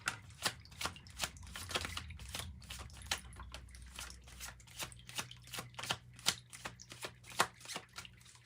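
Two tarot decks, Sacred Signs and Symbols and Epiphany, are shuffled together, producing a quick run of crisp card riffles and flicks, close and fairly quiet, with no voices.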